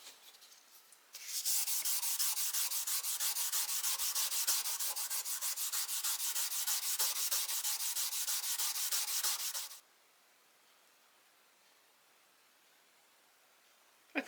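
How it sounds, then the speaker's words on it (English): An ultra fine abrasive pad scrubs a steel putty knife blade in a steady, close, loud rasping burst lasting about eight seconds, then stops, leaving near silence. "I'm going to go over it with this ultra fine abrasive pad now"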